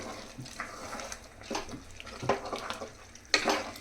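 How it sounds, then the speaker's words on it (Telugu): Water splashes and trickles into a pot of mutton biryani in a few short pours, with soft clinks, close and fairly quiet. "వాటర్ కూడా వేసుకుంటాను."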